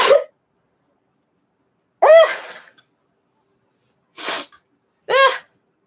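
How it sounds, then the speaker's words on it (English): A person sneezes several times in short separate bursts, each sharp and close, with quiet gaps between them and no talking. "Oh, I have to sneeze."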